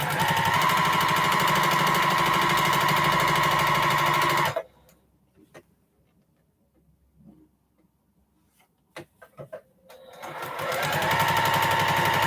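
A sewing machine runs in a steady, loud stitching burst for about four seconds, falls silent for several seconds apart from faint handling clicks, then starts stitching again near the end.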